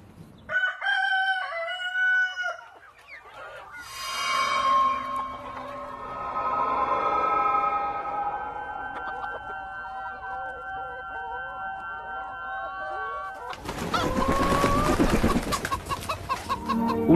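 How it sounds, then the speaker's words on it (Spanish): Chickens clucking and a rooster crowing at a farm in Reus, with several overlapping calls near and far, then a burst of busy flapping and squawking near the end. "Una permanente tertulia de cacareos se organiza cada día en esta granja de Reus."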